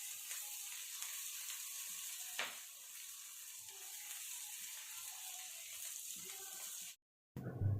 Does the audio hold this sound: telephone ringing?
no